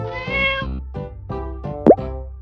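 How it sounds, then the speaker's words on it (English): A cat gives several short, clear meows in a row, close and loud, with a sharp plop near the end. "C for cat."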